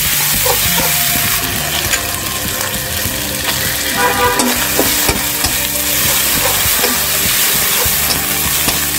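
Ginger and turmeric spices frying in a pan, a loud continuous hissing sizzle with light stirring scrapes and clinks, steady for the whole stretch.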